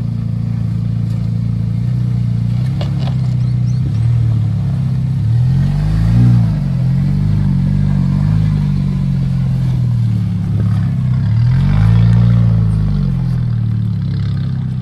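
A Tank 300 4x4 engine labouring through wombat holes on a dirt test track, a loud low drone that rises and falls in slow surges as the load changes, close and continuous with no speech.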